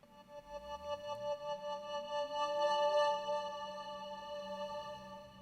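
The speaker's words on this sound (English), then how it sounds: "And the next layer I added was just a really simple pad, courtesy of the Micro Freak," A simple synth pad from an Arturia MicroFreak plays alone, sustained layered tones with gliding pitch sweeps underneath and a gently swelling, echoing texture at moderate, steady loudness.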